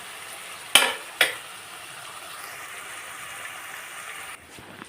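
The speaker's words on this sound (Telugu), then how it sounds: "మొత్తం వేగినాయి కదా చూసారు కదా ఇంకా కొంచెం వేగనిద్దాము" Prawns and cucumber curry fry in a pan with a steady low sizzle, punctuated early by two sharp spatula scrapes against the metal, close up and with no talking.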